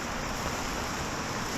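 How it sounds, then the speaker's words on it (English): Water trickling and running off a muddy creek bank in an Ozark forest canyon, a steady broadband wash with no distinct drips, close and continuous with some wind noise. "There's water running out of this side of the dip."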